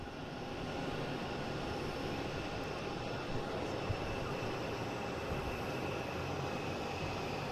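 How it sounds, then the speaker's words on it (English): A KLM airliner arriving from Amsterdam lands on runway 4 Right at Boston Logan International Airport, giving a steady, broad roar that holds at an even level throughout with no voices. "we have KLM coming in from Amsterdam, landing on 4 right"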